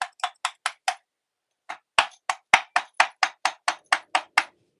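A 600 gram dummy hammer, likely nylon-faced, strikes stone during stone carving: about fifteen sharp, evenly paced knocks, five in a quick run, a short pause, then a longer steady series, close and clear with no talk.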